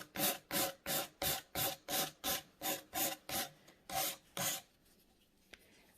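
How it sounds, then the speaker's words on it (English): Nail file rasping across a fingernail in one direction, about eleven quick, evenly spaced close strokes, then quiet. "I'm then going to flip my file and file down the way"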